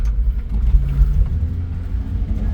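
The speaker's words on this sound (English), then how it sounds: "Bob and Diane, here is the fun part, the test drive" Subaru Sambar crane truck on a test drive, its engine giving a steady, loud low rumble throughout with slight swells as it moves along, no voices over it.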